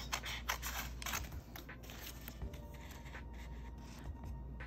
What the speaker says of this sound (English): I'm gonna cut out the flowers